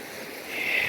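River water flows past a village bathing pool in Uttarakhand, a steady close rush of water that brightens slightly toward the end of a very short moment.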